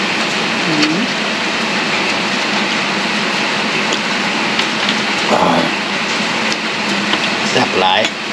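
Rain falls steadily, making a loud continuous hiss that fills the whole stretch, with voices and a few brief knocks over it.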